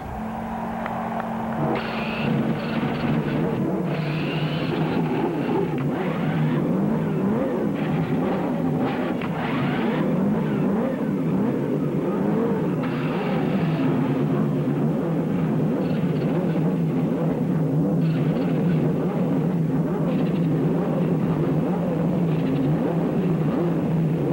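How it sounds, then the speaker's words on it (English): IndyCar race car engines at the 1992 Marlboro 500 oval race, a dense, steady roar of many engines running together at a loud, constant level throughout, with no talk over it. "Gentlemen, start your engines!"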